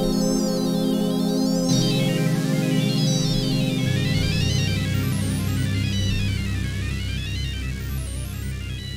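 A shimmering, spacey synthesizer sound with warbling, zigzagging high tones rising and falling over a dense sustained drone, loud and continuous.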